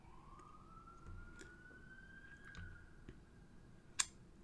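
An ambulance siren passes outside, heard faintly through a window as a rising, drawn-out wail, distant and soft against low background room noise, with a sharp click near the end.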